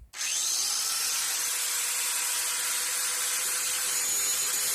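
A cheap Harbor Freight angle grinder sharpens a lawnmower blade clamped in a vise, for a 2003 Craftsman M110 mower: a loud, steady high-pitched grinding whine that starts abruptly and holds without a break.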